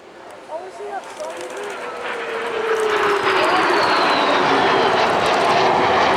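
A BAE Hawk T1 jet trainer, built in 1981, passes at the Blackpool Airshow with a rising, loud jet roar that builds and swells into a sustained rushing whine as it nears. The clip has no voices.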